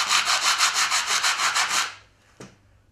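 A wooden block wrapped in sandpaper scrubs back and forth over pallet wood in about ten even rhythmic strokes, close and loud, then stops, followed by a single light knock.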